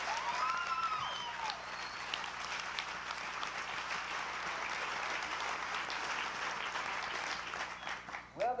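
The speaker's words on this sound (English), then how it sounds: "Let's give the Lord a big hand clap." A church congregation breaks into steady, full hand-clapping applause that carries on for around eight seconds, with a brief voice calling out at the start and another at the very end.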